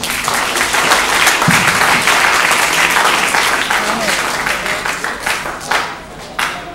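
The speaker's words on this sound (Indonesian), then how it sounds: "Tepuk tangan buat mahasiswa baru 2013 di sini." Students break into dense, sustained applause welcoming the new 2013 intake at a university lecture event, a steady wash of many hands clapping that tapers near the end, with a voice or two faintly under it.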